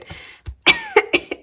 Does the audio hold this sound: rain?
no